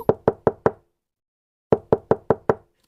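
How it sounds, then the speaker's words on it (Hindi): Loud knocking on a locked toilet door from inside comes as two sharp bursts of four and five evenly spaced raps, separated by a silent pause. "चलो जोर जोर से खटकी मारती हूँ"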